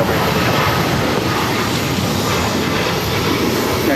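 Boeing 737 MAX 9 jet on United Airlines taking off from runway 22 right at Boston Logan, a loud steady broadband engine roar that holds for the whole stretch with no talk.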